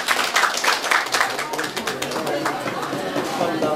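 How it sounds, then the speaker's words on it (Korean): An audience applauds in a dense burst of clapping at a celebration, loud and sustained, with voices talking throughout. "크게 박수 한번 보내세요"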